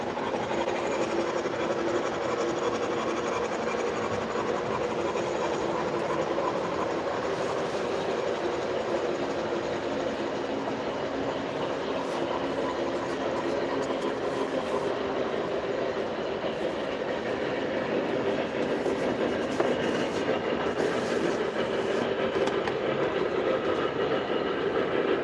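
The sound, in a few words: MTH Premier Mercury model train with custom sound set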